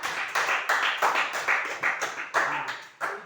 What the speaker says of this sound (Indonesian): Buat tepuk tangan untuk kelompok